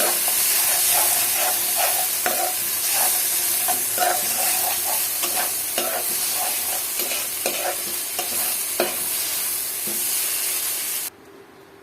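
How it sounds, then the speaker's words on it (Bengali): Dried fish (shutki) fries in a pan with a constant sizzling hiss while a utensil stirs it in repeated scraping strokes, close and fairly loud, cutting off abruptly near the end. "এইভাবে করে এটা নাড়তে হবে এই যে আমার শুটকিটা হয়ে আসছে"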